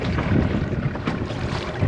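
Small tender dinghy motoring offshore, an outboard hum mixed with water splash and heavy wind buffeting on the microphone, loud and close throughout.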